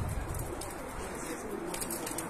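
Ornamental red pigeons coo softly at midday in a rooftop loft, low murmuring calls sitting under steady wind and ambient noise.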